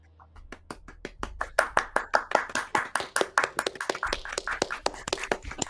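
A small group claps, starting with a few sharp hand claps close by and building into faster, denser rhythmic clapping that continues steadily, no voices heard.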